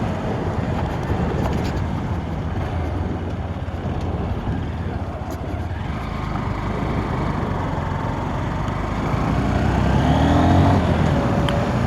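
A Honda Hornet 2.0 motorcycle engine hums steadily while riding, with a loud, continuous drone mixed with wind rush that swells slightly toward the end, under a voice.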